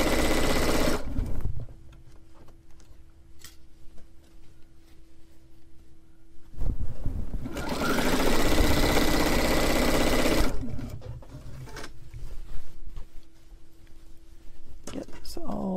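A domestic sewing machine stitching seams on a flannel rag quilt, a steady motorized whir in two runs separated by a quieter pause with a soft voice talking in between.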